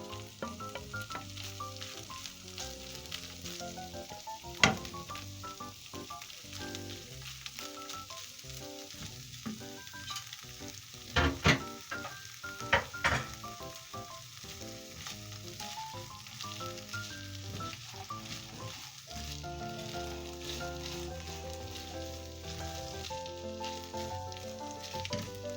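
Chicken sizzles in a pan with browned chopped onions, a steady close crackle of frying with a few clatters of stirring, and no talking.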